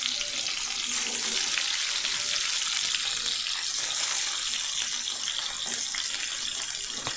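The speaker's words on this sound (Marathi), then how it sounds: "तेल तापल्यानंतर जे कट केलेले टोमॅटो आहेत ते असे आपण याच्यामध्ये ठेवून देणार आहे" Cut tomatoes sizzle in hot oil in a pan for a tomato chutney, a loud, steady broadband frying hiss with crackles throughout.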